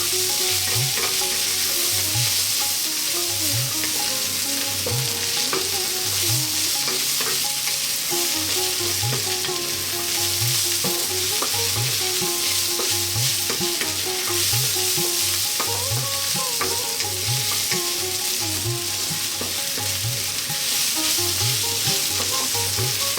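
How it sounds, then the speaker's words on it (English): Cashews frying in a pan for veg biryani, with a steady sizzle and repeated stirring scrapes in an even rhythm, close and moderately loud throughout with no voices. "What we're going to do now is drop those cashews in, and we're just going to go for 2 more minutes"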